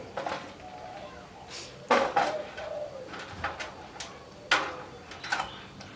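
A male zebra dove gives soft, sporadic coos and clicking calls close by, with short phrases separated by pauses.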